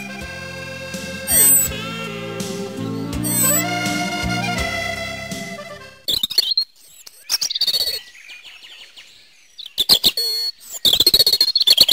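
Wild birds around garden nest boxes chirp in short, bright bursts during the second half, following a stretch of tonal music, with several distinct calls spaced a second or two apart.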